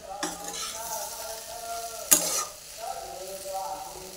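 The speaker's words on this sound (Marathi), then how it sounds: "सगळं मिक्स करून घेऊया बिया वगैरे टाकलेलं" Jackfruit curry with its seeds being stirred in a pan, a spoon scraping and clinking against the metal with a soft sizzle underneath, one sharper clank midway, close and fairly quiet.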